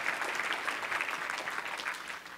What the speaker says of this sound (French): Est-ce qu'on peut donner une main d'acclamation à Jésus